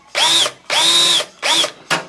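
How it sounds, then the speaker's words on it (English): Drill motor fitted with a small bit boring a rivet hole in an aircraft side panel, heard as three close, loud whining bursts of drilling with a whistling tone, followed by a short fourth burst. "So I'll take the drill motor with a 30 bit in there"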